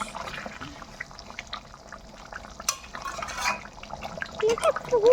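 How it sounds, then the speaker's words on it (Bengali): Meat curry bubbles steadily in a cooking pot, a soft continuous simmer heard close up with faint voices in the background. "দেখতে পাচ্ছি কি এখন টকবক টকবক করছে মাংসটা"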